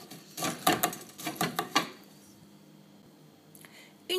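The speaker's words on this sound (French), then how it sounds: "Je vais commencer par écraser mes cacahuètes à l'aide d'un pilon" A pestle crushes peanuts in a burst of sharp, irregular pounding and crunching knocks for about two seconds, close up, then near quiet with a couple of faint clicks.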